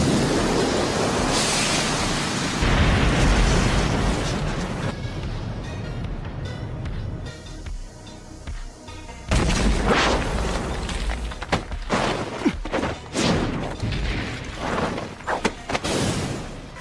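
A fire style jutsu explosion in a Naruto anime fight between Itachi, Naruto and Kakashi: a roaring, rushing blast that fades, then a rapid run of sharp bursts and crackling hits.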